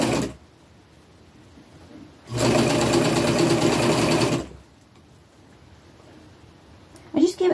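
A sewing machine runs a straight stitch attaching stretched elastic to an upcycled men's shirt, one steady, close, loud burst of about two seconds between quiet pauses.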